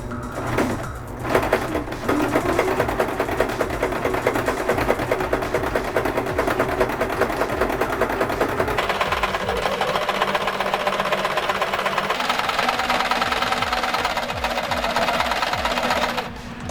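An Elgin Genius Plus domestic sewing machine runs steadily for the whole stretch, stitching decorative patterns with a busy rhythmic needle chatter. The motor pitch shifts partway through, and a brief pause comes near the start.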